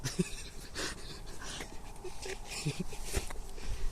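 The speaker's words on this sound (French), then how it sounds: "on a lancé les chiens" Dogs released at a village site pant and whimper close by, with quick breathy bursts over a rough, busy outdoor background, without clear speech.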